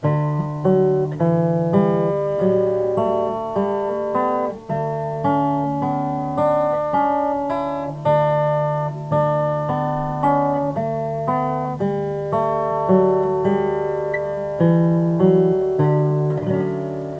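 An acoustic guitar in DADGAD tuning plays a melodic passage in thirds, each plucked and left ringing in a steady, unhurried rhythm, with no voices.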